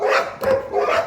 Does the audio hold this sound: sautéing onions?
no